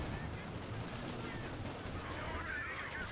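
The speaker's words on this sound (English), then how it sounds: "the Panther's getting some huge shots on the Crocodile" Tank gunfire in a WWII strategy game as a Panther fires on a Crocodile, with booming shots and crackling battle noise spread across a busy, steady mix.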